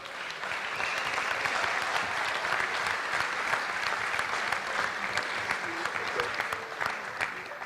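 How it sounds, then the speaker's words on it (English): A banquet crowd at a football awards dinner applauds coaches' wives and girlfriends, steady sustained clapping from many hands lasting several seconds, with faint voices mixed in. "if we can give them a huge round of applause"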